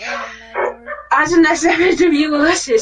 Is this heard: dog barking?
yes